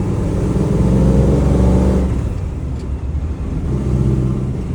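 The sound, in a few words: car engine revving with aftermarket carburetor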